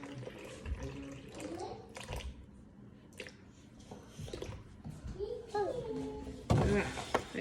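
Water pours and splashes into a bowl for sourdough in a kitchen, intermittent trickles and small splashes under ongoing conversation between an adult and a child.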